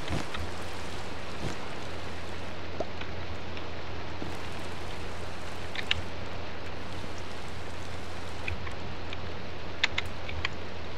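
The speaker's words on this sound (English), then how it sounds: "it's currently raining and nighttime." Steady rain in Minecraft hisses continuously with occasional faint drip ticks, even and unbroken, with no voices.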